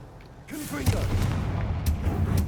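A Confringo fire blast spell in the Hogwarts Legacy video game, a sharp whoosh followed by a loud booming explosion and rumbling fiery crackle, with a couple of later impact bursts.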